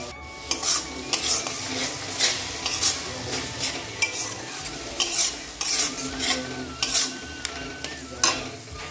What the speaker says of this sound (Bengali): এবারে এর মধ্যে দিয়ে দেবো আগে থেকে বেটে রাখা টমেটো।